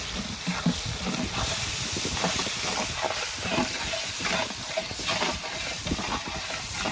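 Tomatoes and green chillies frying in masala in a large pot of chana for a big langar batch, a loud, steady hissing sizzle with bubbling crackle throughout.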